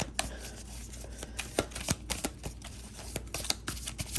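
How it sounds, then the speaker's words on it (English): Tarot cards being shuffled by hand, a soft run of quick papery riffles and taps with irregular rhythm, close and fairly quiet, no talking. "Dang, I'm shuffling."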